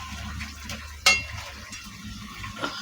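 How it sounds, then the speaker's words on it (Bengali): Fish goes into a bubbling cauliflower and potato curry, a low simmering sizzle broken by one sharp utensil clack against the pot, close by with no talk. "এ দেখো তরকারি ফুটে গেছে, এবারে দিয়ে দেবো মাছ"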